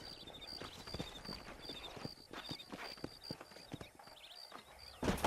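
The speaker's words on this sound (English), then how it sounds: "These are fine horses." Horse hooves in the video game Red Dead Redemption, with wild horses near Armadillo: rhythmic, fairly close clip-clop of several hooves at a trot, over a background of chirping birds, ending with a louder burst of movement.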